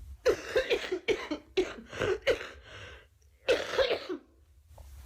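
A coughing fit: a run of harsh, close coughs in quick bursts, a short pause, then another cluster of coughs, with no talking.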